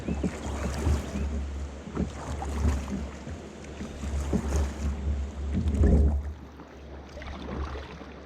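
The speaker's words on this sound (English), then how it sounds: "I'm gonna have to paddle back upstream here a little bit and try to get turned around." A canoe or kayak paddled upstream on the Little Miami River, with soft splashing paddle strokes recurring every second or two over low, rumbling wind buffeting the microphone and flowing water.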